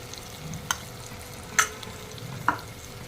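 Masala frying in a pan for broccoli kurma, with a low steady sizzle under three sharp scraping clicks of a spoon stirring against the pan, close and alone without speech.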